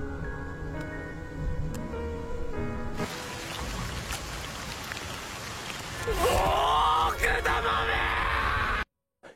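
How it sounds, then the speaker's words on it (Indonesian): Anime character Hiro lets out a loud, drawn-out scream of rage at the orcs who wrecked his village, rising sharply near the end over a dense, noisy rain-like backdrop. "Hiro yang marah itu langsung berteriak"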